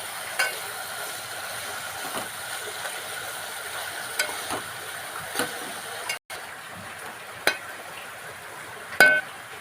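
Vaseti greens being stirred in a frying pan, a soft steady sizzle with a few scraping clinks of the spoon against the pan at intervals, close and alone.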